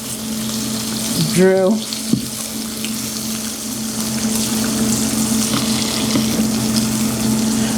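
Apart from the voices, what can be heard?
eggs frying in a pan on an All-Clad induction burner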